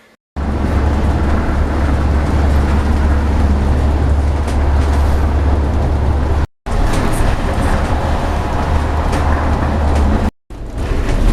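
Volvo hybrid B5 bus on the yellow X15 route, with a loud, steady interior hum and road rumble that carries on continuously, broken by two brief cuts to silence.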